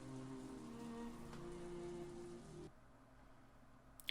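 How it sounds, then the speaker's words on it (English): Steady rain and wind in the Umineko visual novel game, a soft continuous patter that drops to a quieter hush partway through, with a brief sharp click at the end. "the quiet sound of the never-ending wind and rain"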